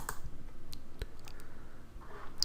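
Computer mouse clicks during WordPress installation, a few sharp isolated clicks spaced apart over a faint hum, close and quiet, no talking.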